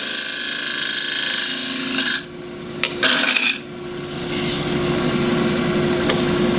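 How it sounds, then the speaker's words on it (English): A wood lathe gouge cuts shavings from a spinning cross-grain wooden box, giving a loud, close, steady rasping hiss that drops briefly twice as the tool lifts off, over a constant motor hum. "Tool's on its side, and you roll the tool slightly to get a shaving"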